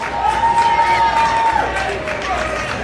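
Crowd at an outdoor cannabis parade and rally in New York City cheers and claps in a steady, loud wash of noise, with a long whistle-like tone early on and voices mixed in.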